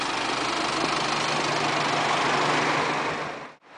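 Steady, loud idling of a London taxi engine heard close by on a city street, a continuous low rumble that cuts off abruptly at the end, with no talk.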